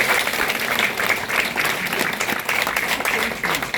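Audience applause fills the room at an election campaign office opening ceremony in Seo-gu, Incheon, a steady, dense crowd clapping that holds at an even level throughout.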